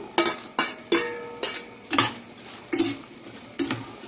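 Cut bell pepper stirred into veg pulao in a pan, with a spoon striking and scraping the metal in about eight sharp, evenly spaced knocks over a low sizzle, close and clear with no voices.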